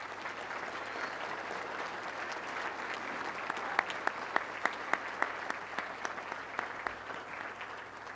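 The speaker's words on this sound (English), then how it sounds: "Let's give the concert choir and wind symphony another round of applause, please." An audience at a Veterans Day ceremony applauds steadily, a dense wash of clapping with a few sharper, louder claps standing out near the middle before it carries on.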